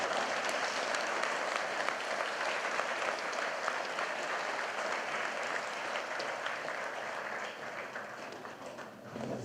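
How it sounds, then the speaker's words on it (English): An audience at a school leavers' ceremony gives sustained, dense applause that holds steady for several seconds before easing slightly near the end. "I think all our Core 2E graduates deserve a big round of applause."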